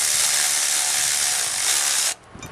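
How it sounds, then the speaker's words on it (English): An electric ratchet with a 9/16 deep socket snugs bolts during an electric water pump install on a 1994-96 Impala SS, giving one loud, steady, high-pitched whirring run of about two seconds that cuts off abruptly. "even with an electric ratchet, we're just going to snug these bolts up"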